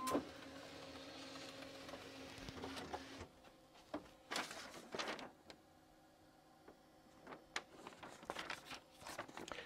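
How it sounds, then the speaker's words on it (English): A 1987 ImageWriter II dot matrix printer whirs and buzzes faintly for a few seconds, followed by scattered mechanical clicks and rapid chattering bursts at low volume. "Mac is thinking about it, and the printer is printing."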